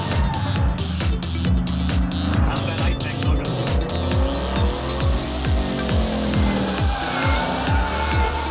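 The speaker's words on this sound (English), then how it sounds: "We're going to go in there and do a couple of hot laps around the race course here" A race car doing hot laps on a race course, its engine revving up and down in close, repeated gear-shift cycles while the tires squeal through the corners, all loud and continuous.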